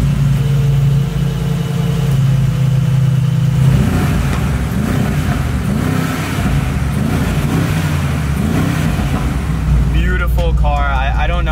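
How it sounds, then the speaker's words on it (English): A Mercedes G63 V8 engine starts and revs, rumbling low and steady then rising in pitch as the throttle is blipped, close and loud with a person talking over parts of it. "That's got to be the V8."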